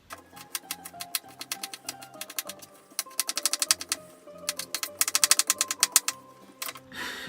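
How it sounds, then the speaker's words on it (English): A knife chops onions on a cutting board with quick, crisp taps in fast uneven bursts and short pauses. The sound is close and clear, with no talking. "We're going to go ahead and cut up the rest of our onions."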